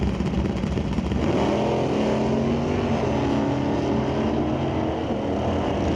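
Two drag cars, a 2022 Camaro and a Mustang, idle and rumble loudly at the starting line of a divisional qualifying meet, their engines holding a steady, dense, droning roar with a slight rise.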